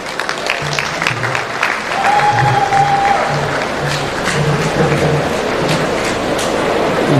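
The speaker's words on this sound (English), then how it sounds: "That really calls for a very big round of applause." An audience at a Beautify Malawi Trust event applauds after a speech, steady clapping that swells after the first couple of seconds, with a low rhythmic rumble and murmuring underneath.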